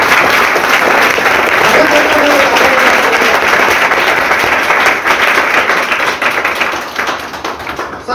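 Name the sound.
loud applause from audience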